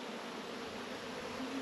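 Honey bees hum in a faint, steady drone while a swarmy nuc is split into hives outdoors.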